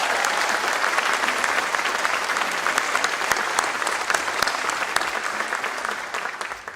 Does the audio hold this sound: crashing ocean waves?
no